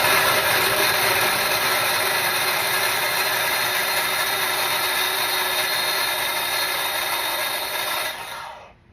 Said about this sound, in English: So here we go with the blitzing.